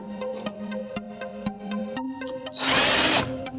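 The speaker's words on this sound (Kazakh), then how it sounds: "Мына шуруповерт, қатыратын шуруповерт, мына батарейкамен болған үшін." Battery-powered cordless screwdriver driving a screw while building a modern shanyrak: repeated short motor bursts stop and start in a steady rhythm, then one louder sustained whir near the end, with no talking.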